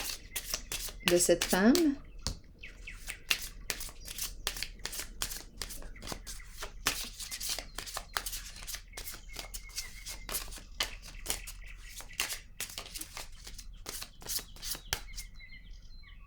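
Cards shuffled and drawn for a tarot-style reading, a long run of crisp rapid riffling and flicking at close range, with a brief voice speaking early on.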